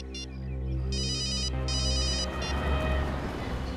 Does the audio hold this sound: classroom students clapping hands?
no